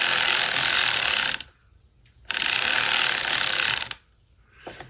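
Circular sock knitting machine being cranked in two long bursts of dense, rapid ratcheting clatter, loud and close. A short silent pause separates the bursts, and a faint click follows the second.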